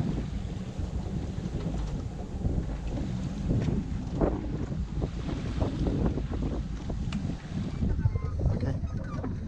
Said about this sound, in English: And we are off using the Meltemi like it was the trade wind. Downwind sailing at its finest